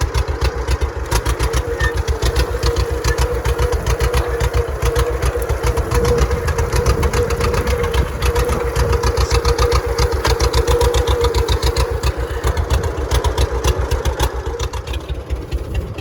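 A tractor engine runs steadily while pulling a John Deere 302 disk plow through a field, a loud, continuous throbbing drone with a rapid regular pulse that holds for the whole stretch and never pauses.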